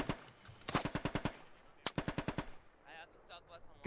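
Automatic gunfire in the military shooter game Squad, two rapid bursts of loud cracking shots with a single sharp report between them, followed by fainter distant fire as someone talks over the radio.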